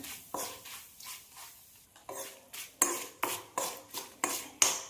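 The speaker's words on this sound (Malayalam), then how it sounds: "നന്നായിട്ടൊന്ന് വഴറ്റി കൊടുക്കാം" Turmeric, chili powder and curry leaves being sautéed for a Kerala ginger curry: a spoon scrapes and stirs in a pan with a steady rhythm of about a dozen sharp strokes, a soft sizzle underneath, close up.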